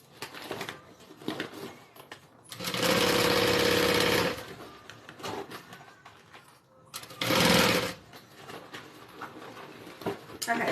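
A sewing machine stitches a Big B wallet in two loud bursts of steady whirring, the first about two seconds long and the second shorter, with someone talking quietly between runs.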